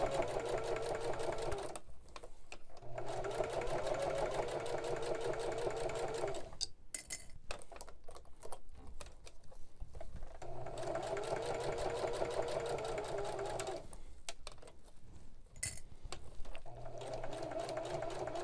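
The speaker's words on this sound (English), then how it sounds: "I do a couple stitches and I back stitch again" Sewing machine stitching and back-stitching a fabric oven mitt, a close steady mechanical whirring hum running in long bursts with short pauses between, the sound changing and stuttering through the back-stitch passages.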